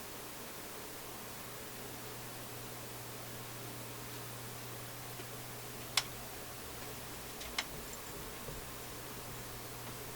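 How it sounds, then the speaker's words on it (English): Sharp isolated clicks from a Philips console stereo receiver being tuned on FM, two or three distinct ticks standing out over a steady hum and noise floor, with no one talking. "hear a few clickies."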